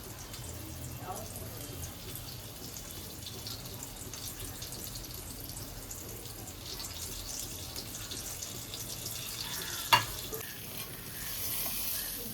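Seafood for a seafood boil frying in oil, a steady soft sizzle with a low background hum and one sharp clink near the end, voices faint underneath.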